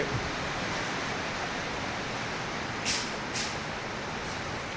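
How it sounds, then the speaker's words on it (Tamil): Drizzling rain falls at Nagapuram around an annadhanam shed, making a steady, dense hiss that fills the scene, with a couple of brief louder gusts of spatter near the end. "நம்ம நாகபுரத்தில் சாரல் நம்ம அன்னதான செட்டெல்லாம் சாரல் அடித்து கிடக்கு"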